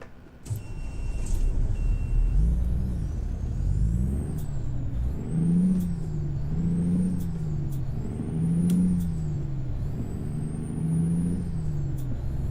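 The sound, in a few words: Volvo VNL truck air brakes in American Truck Simulator video game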